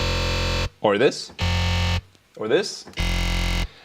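Chopped snippets of a recorded Lamborghini engine play as buzzy, distorted sustained tones, alternating with a man's spoken interjections in short bursts.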